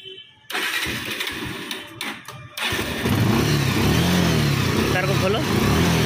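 A Bajaj Pulser 150 cc BS3 motorcycle with a newly fitted regulator starts up after a short crank, its engine then settling into a steady, loud, close idle with voices talking over it.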